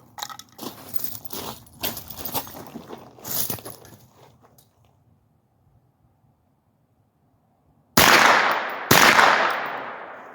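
Rifle shots fired at long range targets of 300 to 500 yards: two sharp, loud cracks about a second apart, each with a decaying tail, following earlier bursts of clattering handling noise and a quiet pause.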